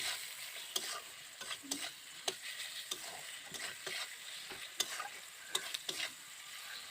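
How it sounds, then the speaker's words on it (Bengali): Spices, cumin and coriander powder, salt and other ingredients for a soybean curry being sautéed in a pan: a steady soft sizzle with repeated sharp scraping strokes of a spatula stirring at close range, no talk. "এবার আমি সমস্ত উপকরণগুলোকে ভালো করে কষিয়ে নিচ্ছি"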